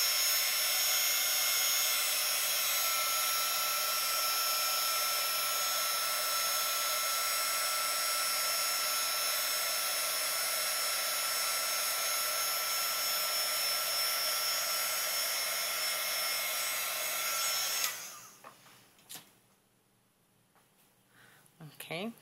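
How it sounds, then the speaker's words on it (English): A heat gun blows steadily to dry ink on a folded card, a loud even rushing hiss that runs for about eighteen seconds and then cuts off into quieter handling noise. "Let me use my heat gun"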